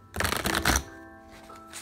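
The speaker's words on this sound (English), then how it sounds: "I'm gonna shuffle, give these a quick shuffle." A deck of life purpose oracle cards riffle-shuffled up close, a quick burst of fluttering flicks followed by a softer settling rustle.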